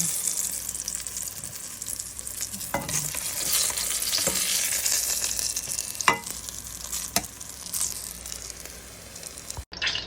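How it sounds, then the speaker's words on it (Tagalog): Eggplant fries in a pan with a constant loud sizzle and occasional scraping stirs, heard up close without talk. "i-fry muna natin ang eggplant and set aside"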